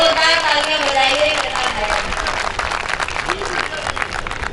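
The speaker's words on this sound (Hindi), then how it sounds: "जोरदार तालियां बजाइए" Applause from the audience at an all-India women poets' kavi sammelan in Surat, a steady wash of many hands clapping that fills the whole stretch, with faint voices and music-like tones mixed in near the start.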